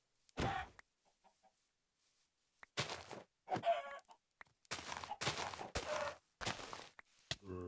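Chickens clucking in the video game Minecraft, a few short loud bursts of clucks spaced out with quiet gaps between them.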